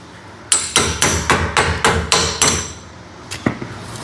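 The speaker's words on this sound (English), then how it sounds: "I get the hammer" Loud hammer blows land in a steady run of about eight strikes, then two more after a pause, close up with no talk.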